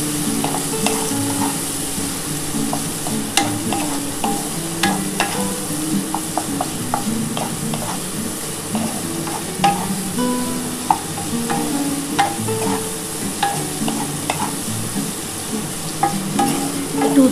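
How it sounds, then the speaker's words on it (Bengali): Sliced bitter gourd frying in oil with a little salt and turmeric, a continuous sizzle in the pan broken by frequent stirring clinks and scrapes, close and fairly loud with no talking. "একটু উচ্ছেটা ভাজা হয়ে যাক বন্ধুরা"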